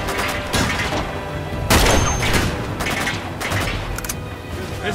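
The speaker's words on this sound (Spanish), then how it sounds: "¡Dejen de dispararme!" Enemies firing on the player in the Uncharted 2 video game: loud, close volleys of automatic gunfire with sharp cracks and a heavier blast near the middle, continuing over rumbling background noise.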